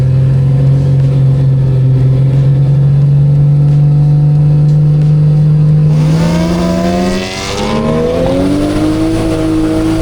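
A no-prep drag car launching hard in second gear on a track: loud steady engine drone that rises in pitch as the car pulls, revving up steadily near the microphone with no talk.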